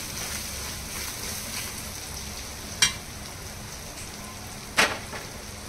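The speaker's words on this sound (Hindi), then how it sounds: "जो प्याज है ना इसी में हम डालेंगे लाल मिर्ची पाउडर ऑयल में डालेंगे ना तो उसका कलर अच्छा आएगा पहले फ्राई होने देंगे अच्छे से" Onions with red chili powder frying in oil, a steady close sizzle and crackle running throughout, broken by two sharp spattering pops, with no talking.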